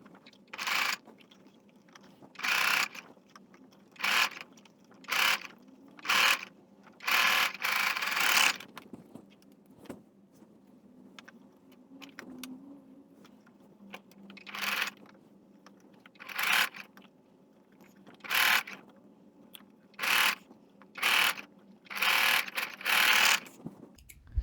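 A sewing machine stitches fabric for a Valentine's Day face mask, its motor whirring in repeated short bursts separated by brief quiet pauses, close and fairly loud, with no talking.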